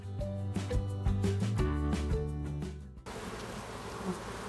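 Honey bees buzzing steadily around a Dadant beehive, a dense droning hum with shifting pitch that gives way to a softer, breathier hiss near the end.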